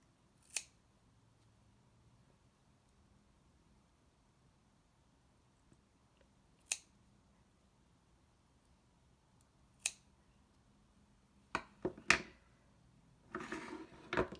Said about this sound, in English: I have to trim out the other eyes.